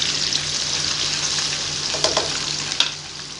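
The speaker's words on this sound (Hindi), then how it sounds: "तो चलिए मैं अब इसे भी अच्छे से फ्राई कर लूँगी।" Taro leaf rolls coated in besan batter deep-frying in oil, a steady dense hiss with a couple of faint clinks near the end, no speech.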